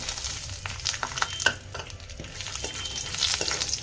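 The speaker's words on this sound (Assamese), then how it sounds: "তেলখিনি গৰম হৈ গল এতিয়া মই বাদামখিনি দি দিছো" Peanuts sizzle in hot oil while a utensil stirs and scrapes the pan in short, irregular strokes, close up, while making poha.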